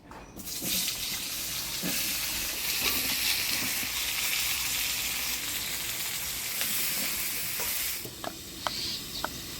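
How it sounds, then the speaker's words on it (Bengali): Eggplant seasoned with turmeric and salt fries lightly in a pan, giving a loud, steady sizzle that fills the whole stretch, with faint stirring knocks and a few sharper clicks near the end. "এবার বেগুনটা হলুদ লবণ দিয়ে হালকা ভাজে নিব"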